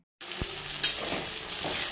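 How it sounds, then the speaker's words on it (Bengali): Potatoes frying with onion in a hot pan give a steady, close sizzle that starts abruptly, with a few soft stirring knocks and a brief metallic clink, and no voices. "তো এদিকে আমি আলু ভাজা বসিয়ে দিয়েছি।"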